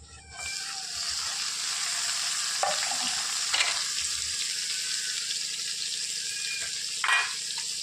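Cumin, onion and tomato fry in a pan, giving a continuous steady sizzle with a few brief stirring clatters and no voices.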